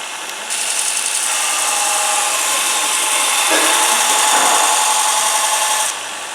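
A Robert Sorby ProEdge belt sharpener grinding a woodturning tool on a finer belt held in a jig, giving a loud, steady abrasive hiss and whine that swells and eases slightly as the tool is moved, with no talk.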